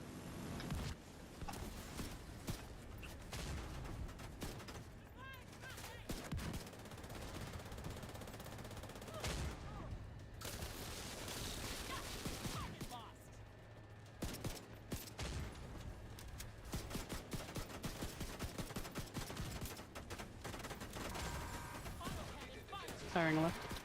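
Gunfire in The Division 2 crackles throughout as bursts of automatic fire and single shots, mixed with footsteps and mechanical sounds, under steady team callouts from players.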